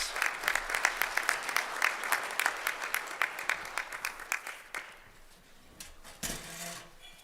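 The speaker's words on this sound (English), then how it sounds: "Give them a round of applause, please." Rhythmic clapping from a small group at a livestock judging awards ceremony, steady and fairly close, that thins out and fades to scattered claps.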